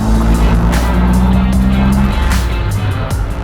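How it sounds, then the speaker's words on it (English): Caterham Roadsport on the Zandvoort circuit, its engine droning loud and close from inside the car, with steady rumble and intermittent crackling pops breaking through the roar. "All the engine pops. The constant engine pops."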